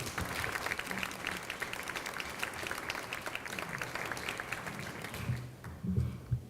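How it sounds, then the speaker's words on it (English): Audience at a public meeting on an East End redevelopment project gives a steady round of applause for the development team, moderately distant clapping that tapers off near the end as a few low voices and shuffles come through. "So please give them a round of applause."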